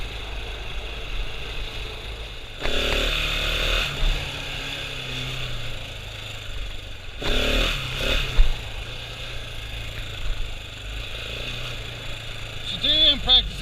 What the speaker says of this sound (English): Today I'm practicing wheelies a little bit.